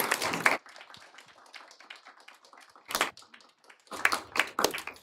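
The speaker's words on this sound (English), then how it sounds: "Big applause for them." Scattered applause from a small WarsawJS meetup audience for the sponsors and host. Short bursts of clapping come at the start and again near the end, with quieter patter between them, close and uneven, and no talk.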